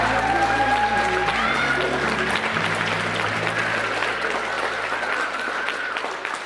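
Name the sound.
wedding guests applauding the bridegrooms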